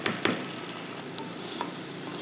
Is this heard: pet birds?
no